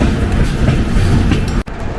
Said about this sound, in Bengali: ট্রেন এখন পৌঁছে গেল তার 36তম হল্ট ধানবাদ জাংশনে